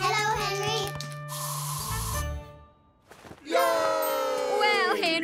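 Cartoon spray paint cans let out a loud, steady hiss for about a second, set between stretches of animated character voices talking and singing.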